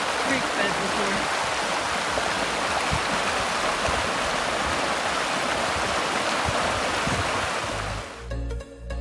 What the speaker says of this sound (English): I've never seen water in this creek bed before.